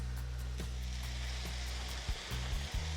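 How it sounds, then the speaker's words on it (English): Frozen peas and carrots stir-fried with roasted sesame oil and reduced sodium soy sauce give a steady, soft sizzle throughout, with a few brief clinks and stirring bumps near the end. "we are gonna mix all of this together and stir fry it for 3 to 4 minutes"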